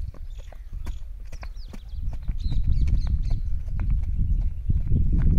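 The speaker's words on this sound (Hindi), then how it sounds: "देख सकते हैं इस घोड़ी को, चलो ट्रॉट चलो" A mare trotting on command, her hooves clip-clopping in a steady, close rhythm that grows slightly louder as she moves, with a handler calling out and birds chirping faintly behind.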